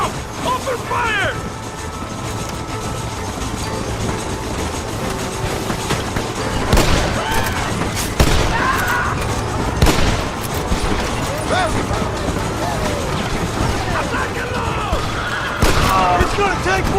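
Gunfire from a Western shootout in Red Dead Redemption, scattered loud shots and booms ringing out over a constant ambient bed, with shouted voices mixed in.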